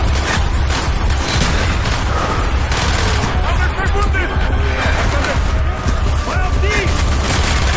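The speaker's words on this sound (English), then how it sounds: "Mortar inbound!" Mortar fire and explosions rumble continuously through a Call of Duty: Black Ops campaign battle, with dense gunfire bursts and booms layered under shouted voices.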